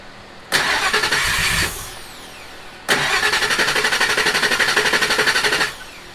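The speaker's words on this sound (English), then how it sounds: "We're going to crank this thing to oil pressure." A 2001 Ford F250 with a 5.4 engine cranked to build oil pressure: a short starter burst, a pause, then a longer steady rhythmic cranking that churns without firing, close and loud.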